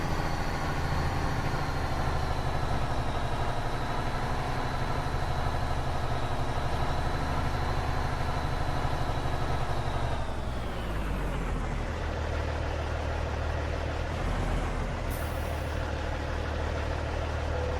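A vehicle engine idles in a driving game with a steady, even drone that holds for about ten seconds, then shifts and thins as the engine is switched off, leaving a quieter hum.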